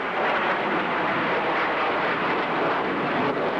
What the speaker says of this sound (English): jet aircraft like the Blue Angels FA-18s virtually split the sky with speed and precision.